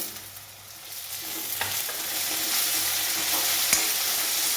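Potatoes and a tomato frying in a pan for a capsicum vegetable dish, a steady, close sizzle that swells as the tomato goes in, with a couple of light stirring clinks.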